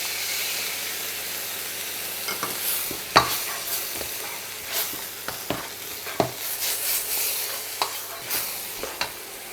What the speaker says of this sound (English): When you hear the sizzling sound again